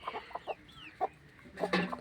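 Domestic chickens clucking at a feeding spot, a string of short, soft clucks and a couple of higher squawks, moderately near, with no talking.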